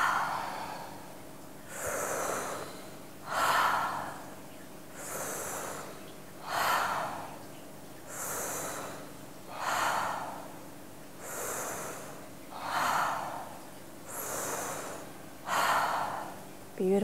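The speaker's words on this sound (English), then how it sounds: "Take a deep inhale," Rapid, deep Tummo breathwork: forceful inhales and exhales through the nose and mouth, about one full breath every two seconds. The breaths are close and loud, with a steady, even rhythm throughout.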